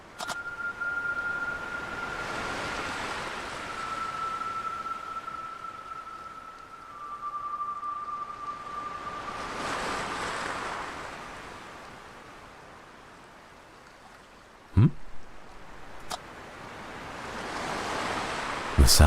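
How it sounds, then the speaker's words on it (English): Ocean waves rolling onto shore beside a lighthouse in the video game Without a Dawn, a steady broad wash of surf swelling and receding in slow cycles, with a faint tone and a few sharp clicks near the end. "The sound of the waves has a unique quality to it."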